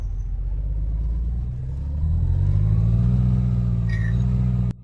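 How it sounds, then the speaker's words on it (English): Packard 680 hp engine of a Peterbilt 389 truck in Euro Truck Simulator 2, a deep steady idle rumble that rises into a louder, higher drone about halfway through, then cuts off abruptly near the end. "I choose Packard 680 horsepower, so yeah. Let's see how does it sound."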